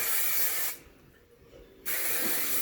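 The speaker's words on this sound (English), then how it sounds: "spray your hair pretty good with a light hold hairspray" Light hold hairspray hissing out of an aerosol can onto hair in one steady burst of about a second, close and clear against a noisy room background.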